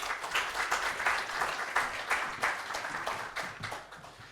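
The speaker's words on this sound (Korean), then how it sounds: "우리 목사님 박수로 환영하겠습니다." A church worship congregation claps to welcome a pastor to the pulpit, warm rhythmic applause with faint pulsing swells that fades slightly toward the end, no voices over it.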